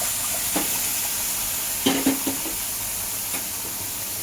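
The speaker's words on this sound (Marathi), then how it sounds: "दोन वाटी आपलं दूध होतं ते टाकून घेतात" Milk poured into a hot pan for pineapple sheera gives off a steady, close sizzling hiss, with a few soft clinks and bumps scattered through it.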